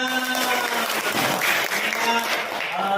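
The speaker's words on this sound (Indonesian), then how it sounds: "tepuk tangan semuanya" Audience at an event on plastic waste applauding steadily for a few seconds, the clapping mixed with overlapping voices and cheers.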